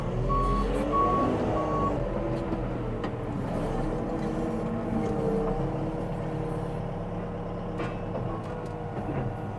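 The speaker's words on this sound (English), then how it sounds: "Come on, Manitou. Let's go backwards." A Manitou telehandler reverses across grass on a farm where concrete water troughs are being installed. A few steady electronic reversing beeps sound early, then fade under the running diesel engine rumble, which carries on at close range.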